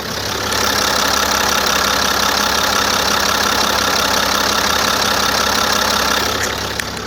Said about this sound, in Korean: 지금 정말 규칙적으로 들려지는 엔진은 들으셨을 테고요.